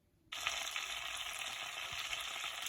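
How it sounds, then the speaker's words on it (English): Butter melting in a pan breaks into a sudden, steady sizzle after a brief moment of near silence, then holds an even, bright frying hiss to the end, fairly quiet overall. "I'm just melting the butter in the pan"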